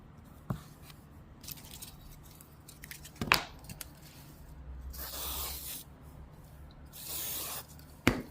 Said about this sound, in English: we're going to spray activator on our block